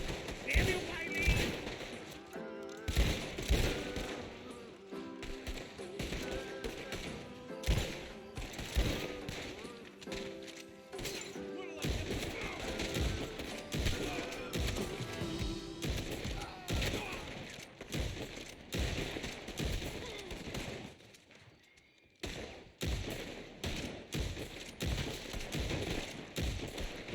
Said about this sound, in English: More shots.